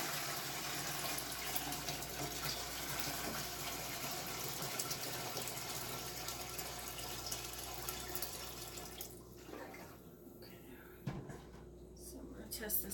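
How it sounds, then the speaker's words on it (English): Water pours from a pot into jars being prepared for sterilizing while making chokecherry syrup, a steady close gushing splash that thins out and ends in a few drips near the end. "right now I'm gonna pour this water in here, attempt to do it without making too much of a mess"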